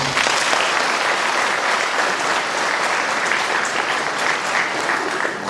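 A church congregation claps steadily and loudly to welcome a priest at a parish feast-day gathering, the dense applause sustained evenly from start to finish with no voices standing out.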